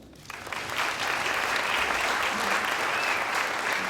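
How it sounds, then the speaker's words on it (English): Applause from a symposium audience welcoming a speaker to the stage, a broad wash of many hands clapping that swells in within the first moment and then holds steady. "a round of applause for Nikki."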